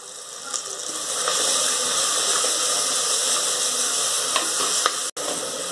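Curry leaves dropped into hot oil in a clay pot for a Sankara fish curry, with onions already frying, give a steady loud sizzle and hiss throughout, with a few faint stirring knocks and no talking.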